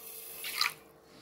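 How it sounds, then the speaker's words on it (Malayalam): Water being poured into a pan to start homemade wax, a brief soft trickling splash swelling and fading within about a second, close by and fairly quiet with no voices. "അപ്പോൾ ആ വെള്ളം ഞാൻ ഇതിലേക്ക് ഒഴിച്ച് കൊടുക്കുകയാണ്."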